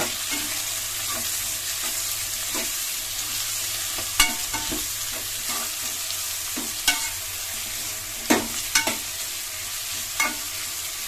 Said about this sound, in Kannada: ಈರುಳ್ಳಿ ಈಗ ಒಂದು ಸ್ವಲ್ಪ ಗೋಲ್ಡನ್ ಕಲರ್ ಬರೋ ರೀತಿ ಫ್ರೈ ಮಾಡ್ಕೊಳ್ಳೋಣ